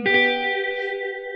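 Electric guitar with reverb and tremolo-arm pitch bending on a song intro, where a picked chord rings out and sustains with a wavering, shimmering tail under effects, close and fairly loud throughout.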